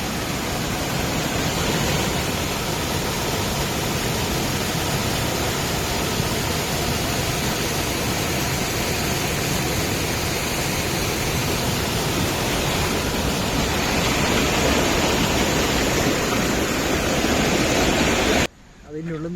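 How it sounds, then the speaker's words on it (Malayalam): A jungle waterfall roars loud and close as a dense, unbroken wash of rushing water that stops abruptly at the very end. "വെള്ളച്ചാട്ടത്തിന്റെ സൗണ്ട് ഒന്ന് കേട്ട് നോക്കി."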